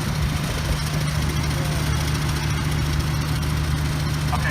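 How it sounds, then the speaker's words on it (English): The 8210 pulling tractor, a 6.5-litre two-stroke diesel, spools up at a tractor pulling rally, a loud steady drone with a strong low hum and whine running throughout. "This is the 8210 spooling up."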